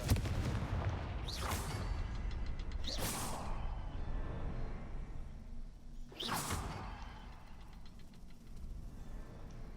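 Confringo blasting spells in the game Hogwarts Legacy: three sharp whooshing blasts fire at uneven intervals over a low, rumbling backdrop of game ambience, each a bright burst that quickly fades.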